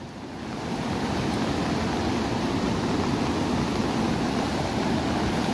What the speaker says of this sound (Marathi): भरपूर पाऊस पडतोय कोकणामध्ये आमच्या इकडे, धोधो पाऊस पडतोय